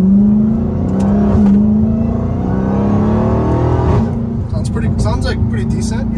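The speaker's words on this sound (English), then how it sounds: "this is gonna be the whine with all the windows closed, nothing open" A Dodge Hellcat Redeye with a new cold air intake pulls away in first gear, heard from inside with the windows closed: a steady engine drone carrying a rising whine that climbs over several seconds.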